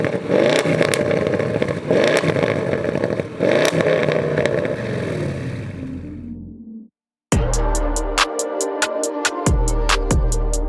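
A 680bhp Audi S8 engine revs hard and loud, with rising and falling harmonic sweeps and clattering crackles, then cuts out briefly before a series of sharp, evenly spaced pops and bangs close by.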